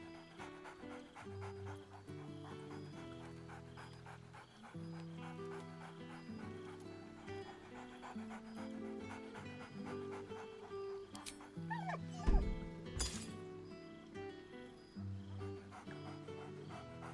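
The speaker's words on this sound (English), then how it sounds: "Scratch barks merrily in something like agreement." A dog in the Baldur's Gate III video game pants, whimpers and gives short excited yips and barks over a soft musical backdrop, with a louder burst of barking near the end.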